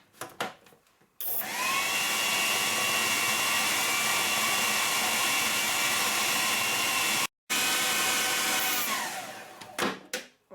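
A blender whirs loudly and steadily, mixing wild garlic with white miso for several seconds, cutting out for a moment, restarting, then winding down with a few clunks at the end.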